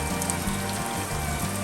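Steady rain falls on a rough, steep mountain four-wheel-drive track area, a continuous broadband patter heard near and fairly loud with no voices over it.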